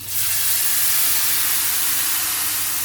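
Water poured into a hot pan of toasted orzo pasta gives a loud, steady hiss and sizzle of steam that lasts throughout, close up with no talking.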